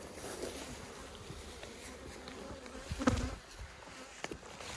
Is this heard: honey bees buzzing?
yes